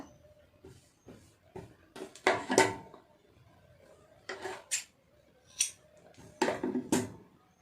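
Scissors snipping through blouse fabric in a series of crisp, close cuts, some in quick clusters of two or three strokes, separated by short quiet pauses.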